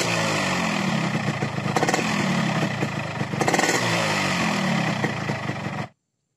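A motorcycle engine warms up close by and is given light, repeated throttle blips, rising and falling over a steady rattling idle before it cuts off abruptly into silence near the end.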